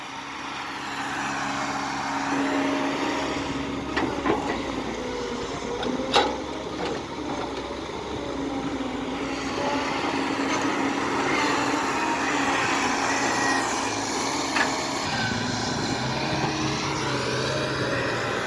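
An excavator engine labouring while digging a pond, a loud, continuous mechanical drone whose pitch rises and falls as the load changes, with a few clanks scattered through it.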